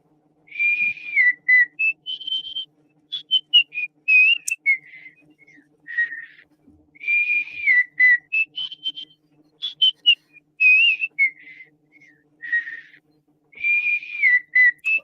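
A cat whistling: a long run of clear, high, warbling whistle phrases, bright and close, repeated in short bursts with brief gaps and no talk.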